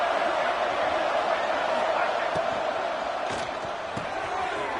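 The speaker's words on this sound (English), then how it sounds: "The crowd elevating its energy, willing this defense to get a stop on this big third down." Stadium crowd in the NCAA 26 college football video game, a dense steady roar of cheering before a big third down with a few sharp hits in the noise. A commentator speaks over it.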